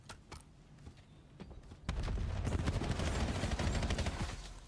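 Gunfire crackles in a competitive Call of Duty League qualifier match, starting as scattered shots and building into a dense, continuous exchange of automatic fire at moderate volume.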